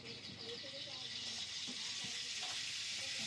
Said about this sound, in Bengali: সর্ষের তেল দিয়ে দিলাম এর মধ্যে